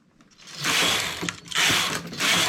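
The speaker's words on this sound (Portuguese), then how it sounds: "Para passar a máquina nessa carreira aqui vai ser bem devagar" A knitting machine carriage is pushed slowly across a row in three long, rasping, ratcheting passes with short pauses between them, close and fairly loud.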